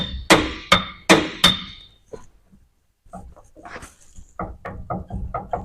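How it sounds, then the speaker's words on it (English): A hammer strikes a seized part on a K20 engine in a garage: four sharp metallic blows in quick succession, then, after a pause, a run of lighter rapid taps and knocks, all loud and close. "I don't think this hammer is going to be big enough."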